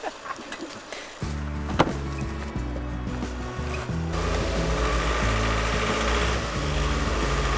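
A camper van's engine idles with a steady low throb as the van rolls onto chocks, the rumble stepping up and growing fuller partway through.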